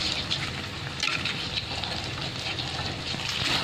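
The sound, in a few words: frying egg stuffed with cabbage in oil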